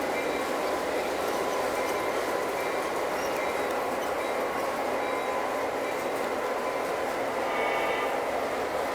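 A Lionel model train runs steadily on its track, a continuous whirring, rattling hum that stays near and even throughout with no talk over it.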